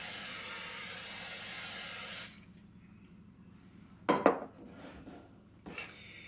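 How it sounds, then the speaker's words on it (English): A steady hiss of non-stick aerosol spray on a skillet for about two seconds, followed by quiet and a couple of light metallic clanks of the pan. "I'm going to start by spraying the skillet with no stick spray."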